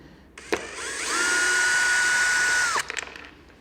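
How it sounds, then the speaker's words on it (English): A DeWalt cordless drill whirs up to a steady high-pitched whine for under two seconds, then winds down, followed by a few clicks. "a DeWalt drill instead of an actual impact"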